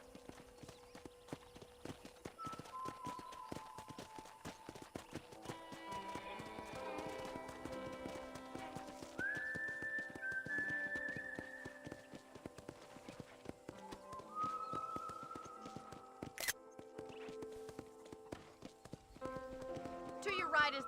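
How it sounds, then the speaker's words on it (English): Rhythmic clip-clop of a horse's hooves at a steady pace while riding around a ranch in Red Dead Redemption, with occasional whinnies, game music and voices talking over it. "let's see if you can still ride a horse"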